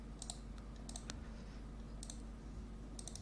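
Computer mouse clicking at a desk, quiet short clicks in small quick clusters over a low steady hum.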